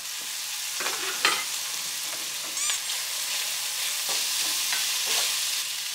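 Fried rice ingredients and rice sizzle steadily in a hot pan with scallion oil while a utensil scrapes and stirs in irregular strokes, close and continuous.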